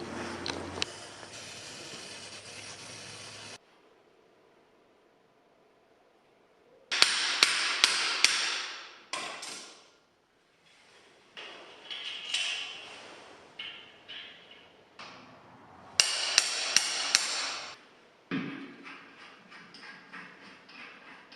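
Metal hammer blows knock a bearing out of a BMX wheel hub, loud sharp strikes in several rapid clusters separated by quiet pauses, close up with no talking.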